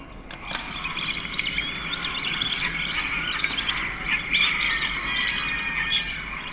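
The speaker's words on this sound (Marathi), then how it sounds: "हा जो साऊंड तुम्ही ऐकताय तो ह्या पक्ष्याचा साऊंड आहे. ह्याचं नाव इकडे दिलं आहे बघू शकता तुम्ही, हिरवी तुतारी." A green sandpiper calls at the flamingo sanctuary in Mumbai, a run of repeated high chirping notes over a steady outdoor background hum.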